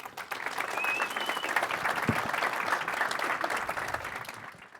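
An audience at the Atlassian Summit 2015 conference claps for a presenter, a sustained, full round of applause with scattered cheers and murmurs mixed in and one brief low thump partway through.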